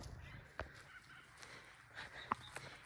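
A guinea fowl calls on an Australian farm with a few short, sharp honking cries, one around the half-second mark and a louder one later, over a quiet outdoor background.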